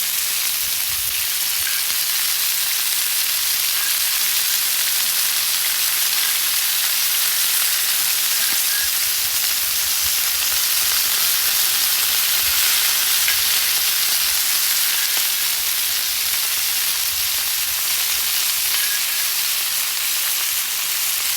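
Lobster in butter sizzles steadily on a griddle, alongside a filet, a continuous close hiss and crackle of frying that holds level throughout with no talking.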